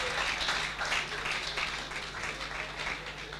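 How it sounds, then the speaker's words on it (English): Steady applause from an audience for panelists at the Lagos Digital Summit 2019, a dense wash of clapping that continues evenly for a few seconds. "Please, a round of applause for all the panelists."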